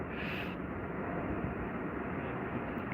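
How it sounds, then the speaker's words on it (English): Boeing 767 descending to land at Heathrow, heard as a steady, broad roar of jet engines held at a constant level throughout, with no talk over it. "Here comes our 767 then, folks."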